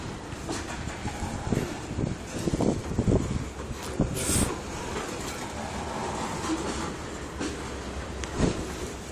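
A Canadian National freight train, locomotive 9617, rolls slowly backwards in Effingham, Illinois, with a continuous rumble, clanks and squeals of the cars at moderate distance and some wind noise on the microphone.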